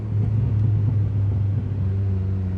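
A turbocharged Honda Jazz GK drives at moderate speed through second and third gear, its engine a steady close low rumble with no talking over it.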